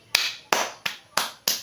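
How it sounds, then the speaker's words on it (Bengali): Five sharp claps in a steady, evenly spaced rhythm, close and crisp, each one ringing briefly before the next, with no voices around them. "বা আপনার জন্য একটা জুড়ে হাততালি।"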